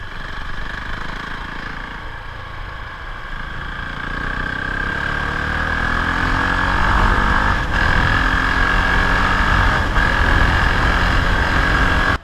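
Husqvarna Vitpilen 701 motorcycle riding on a road, its engine a steady, close mid-pitched drone with a persistent tonal whine that slowly builds in loudness, with no talking.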